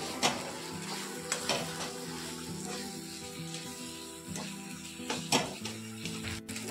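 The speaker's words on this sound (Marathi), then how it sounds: "1 चमचा कांदा लसूण मसाला, 1 चमचा लाल तिखट व अर्धा चमचा हळद टाकून घेऊन आपण हे परतून घेऊया।" Onion-garlic masala, red chili powder and turmeric sautéing in a pan for a drumstick curry, with soft sizzling under scattered spatula taps and scrapes close by, no talking.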